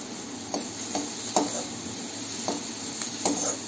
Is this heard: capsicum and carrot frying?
yes